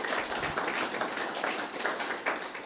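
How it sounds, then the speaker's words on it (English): Audience applause at a community launch event, a dense steady wash of many hands clapping together, sustained at even loudness throughout with no voices over it. "can we give a round of applause?"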